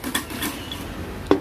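Items are stirred and mixed in a bowl, giving a few quick clinks and scraping rubs, with one louder knock near the end, close-up and without talk.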